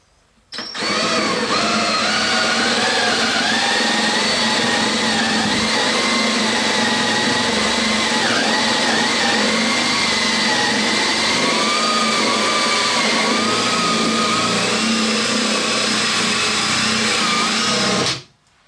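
A power drill boring 1.25-inch holes, not all the way through, whines continuously at high speed for several seconds, loud and close, its pitch wavering slightly under load before stopping abruptly.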